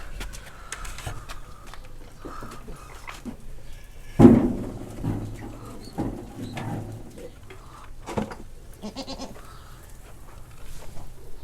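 Goats at a Turkish farm bleat several times, with one loud close call among fainter ones, over quiet barnyard background with occasional bird sounds.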